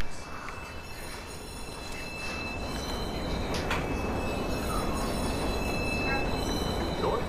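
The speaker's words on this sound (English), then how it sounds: "Northbound train arriving shortly." A train rolls into a station in the open-world game Watch Dogs with a loud, steady rumble of wheels on rails and faint high squeals, close and sustained.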